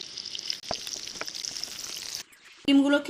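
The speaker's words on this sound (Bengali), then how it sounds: "এখন ডিমগুলোকে দিয়ে ভালো করে ভেজে নেব" Eggs frying in hot oil for an egg curry give a steady, close sizzle for about two seconds, then cut out to near quiet before a short, bright metallic clatter near the end.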